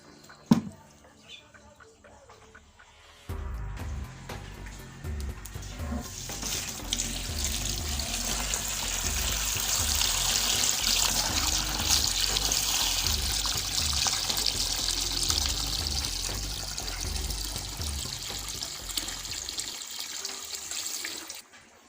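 After a quiet start, water pours steadily for most of the stretch, a continuous splashing stream that stops near the end.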